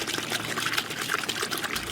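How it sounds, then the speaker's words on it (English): Water gushes and splashes steadily from burst pipes in a neighbourhood burned by a Los Angeles wildfire, a close, continuous rushing flow with no talk over it. "the sound of running water in a drought-parched landscape is from burst pipes"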